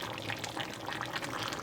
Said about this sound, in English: now I'm gonna add this blended tomatoes